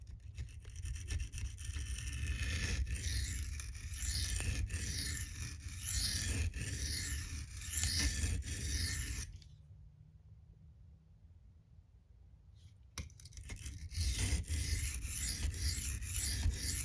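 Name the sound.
sharpening M390 Manix 2 knife edge on silicon carbide stone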